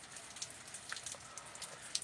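Light summer rain falling outdoors, a faint steady patter of scattered drops with no voices over it.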